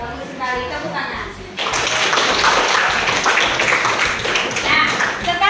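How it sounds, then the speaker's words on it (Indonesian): A classroom of students applauds after a teacher's prompt, quiet chatter giving way to a sudden burst of loud, dense clapping that carries on steadily to the end, with children's voices mixed in. "Bagus sekali, tepuk tangan."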